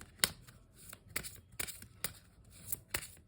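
Tarot cards being shuffled, several brisk papery riffling bursts at irregular intervals, fairly quiet and close with no voices.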